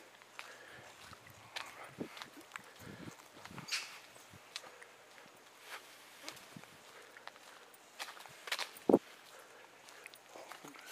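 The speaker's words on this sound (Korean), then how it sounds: "내 발소리 밖에 안 들리죠." Quiet footsteps on a walking path around Jeongneung royal tomb in Korea, soft irregular crunching at a steady walking pace, with faint outdoor ambience and a sharp knock near the end.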